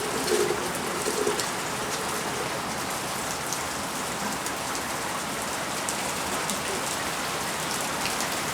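Rain falling outdoors in a garden, a dense, even patter and hiss that stays steady throughout, with a faint bird call near the start.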